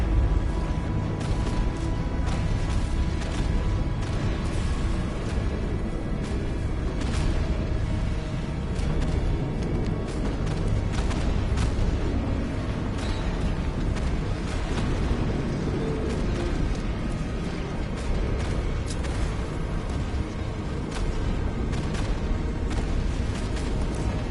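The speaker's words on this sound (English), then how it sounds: "Explosion imminent." A dense, sustained roar of rumbling blasts and crackling bursts fills a video game scene as a plant reaches critical integrity and explodes, loud and continuous with scattered sharp pops throughout.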